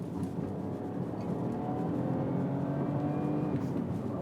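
BMW 118i M Sport, a 2020 three-cylinder turbo hatchback with 138 bhp, accelerating hard from inside the cabin; a steady, loud engine drone climbs in pitch through the gears with no talk over it.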